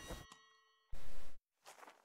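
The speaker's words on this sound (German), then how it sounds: "Was mache ich, wenn ich jetzt nochmal klingel?" A doorbell chime rings in the video game Ankh, a short tonal ding with sustained harmonic ringing, followed by a burst of broadband noise and brief soft sounds.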